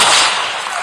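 A loud, sharp gunshot from a Call of Duty-style video game, a single broad burst that fades over under a second.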